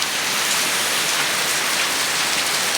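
Dense rainfall hammers down at a village market in Monoharganj, a constant bright roar of drops striking surfaces nearby, unbroken and without speech.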